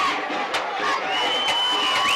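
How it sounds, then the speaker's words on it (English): A home crowd roars and cheers steadily at a high school football stadium during a Malvern versus Farmington game, a dense wall of voices with whoops rising throughout. "The home crowd enjoying it as Jesus Torres gets set to kick off"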